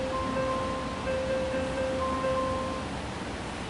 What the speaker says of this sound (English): So I've got it set up to piano ballad arpeggiator,